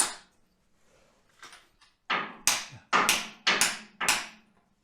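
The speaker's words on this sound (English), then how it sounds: "you really don't want to be swinging the hammer too hard, but it does want to be in" Hammer taps a core plug into a Rover V8 engine block, a few light ones followed by five firmer, evenly spaced strikes with short ringing decays.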